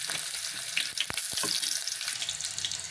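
Cumin seeds, with green chillies, sizzle in hot oil as a tempering for palak curry: a steady, close crackling hiss broken by a couple of sharp pops, with no voices.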